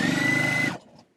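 A sewing machine stitching a quilt runs steadily with a fast, even mechanical whir and hum, then stops abruptly partway through, leaving a faint quiet tail.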